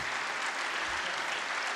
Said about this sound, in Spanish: Un aplauso para el señor Brian Andrade,